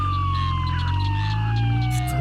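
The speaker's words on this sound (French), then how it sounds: "déjà il y a leur putain de sirène là" A police car siren wails loud and near, with a steady, slowly falling tone and a heavy low rumble underneath, continuous throughout and with no talk over it.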